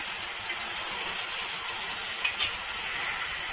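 Fresh green peas stirred in a frying pan for poori masala, a steady soft sizzle and scrape with two brief louder clinks near the end, no talking.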